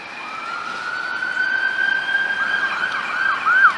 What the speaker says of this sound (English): don't let the police sirens fool you